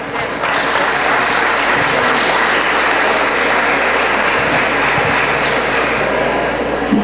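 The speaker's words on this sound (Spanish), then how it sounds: "Un aplauso." Loud, sustained applause from a gathered audience greeting Luz Aciela González, president of the Dominican lay fraternity, before her talk on the Holy Rosary and evangelisation; a thick, continuous wash of clapping with no speech over it.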